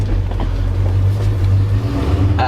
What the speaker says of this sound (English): just a little bit of lope to the idle